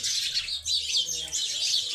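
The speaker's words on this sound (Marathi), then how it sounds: "चिडे मस्त चिवचिव राहिल्या" Sparrows chirp in a quick, overlapping run of high, bright tweets, close by and continuous throughout.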